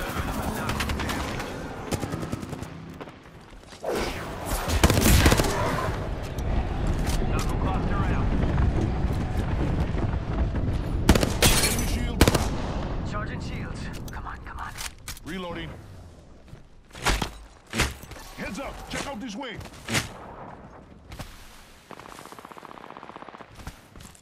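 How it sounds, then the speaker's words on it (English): An airstrike in Apex Legends brings heavy booming explosions and bursts of rapid gunfire, loud and close, surging in the middle and thinning into scattered shots, with a player's voice over the noise. "Calling the airstrike."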